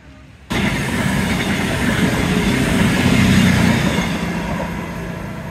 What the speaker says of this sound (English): I think that was a happy train. I may have heard a toot